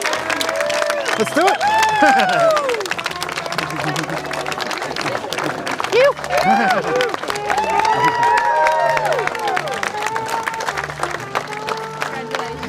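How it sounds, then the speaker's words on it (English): Wedding guests applaud and cheer for a newlywed couple at a ceremony, a loud, steady crowd roar with whoops, and voices rising through it. "join me in a round of applause for our newlywed couple"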